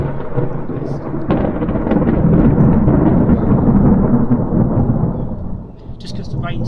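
Loud, sustained rolling thunder from a severe thunderstorm over Bognor Regis, UK, a long rumble that swells and slowly fades, with rain hiss beneath and brief faint sounds near the end.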